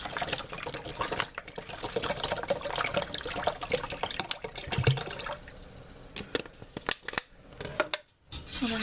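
Ice-cold Ozarka Texas spring water poured from a bottle, a faint trickling and splashing with irregular gurgles and a few clicks and taps, fairly quiet throughout.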